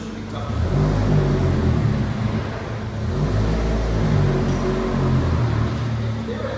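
A Fiat Panda hybrid with manual transmission strains in reverse up a steep slope, its engine droning steadily at a loud, close, labored pitch. Someone talks briefly over it.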